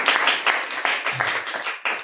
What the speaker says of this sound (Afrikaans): Jesus, julle self hande klap